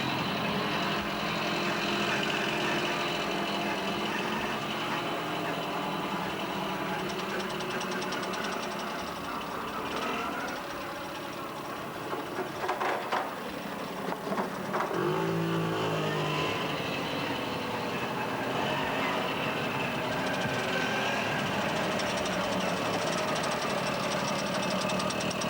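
Vehicle engine revving as throttle is applied, a loud, continuous rattling and knocking drone that holds steady for a long stretch, briefly dipping and surging again midway, with no talk over it.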